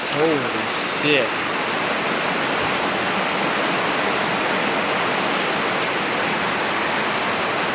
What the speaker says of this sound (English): Really heavy rain and wind.